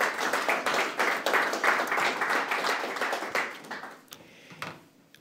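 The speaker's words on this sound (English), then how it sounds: "A big round of applause." A small group applauds at a Democratic Town Committee forum, brisk clapping that holds steady and then thins out, with a few last scattered claps as it fades near the end.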